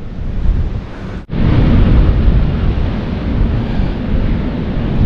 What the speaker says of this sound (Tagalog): Ayan na ang bagyo.